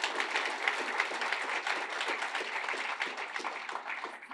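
Applause from an audience at an announcement event, moderately dense clapping heard at a distance, steady throughout and fairly quiet.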